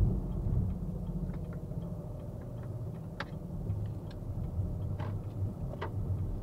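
A car's turn signal clicks faintly and steadily inside the cabin during a driving lesson, soft regular ticks over a loud low engine and road rumble.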